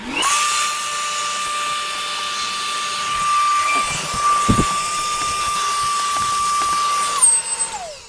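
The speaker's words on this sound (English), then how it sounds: "Usually you can just take a vacuum." A vacuum cleaner removes lint from a clothes dryer door, a loud steady whine holding one pitch, interrupted by a brief clunk midway and a falling pitch as it winds down near the end.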